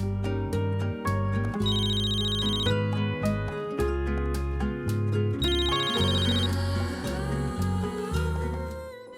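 A telephone rings inside a television drama scene, a repeated electronic ringtone playing in loud, steady bursts, close by with no talking over it.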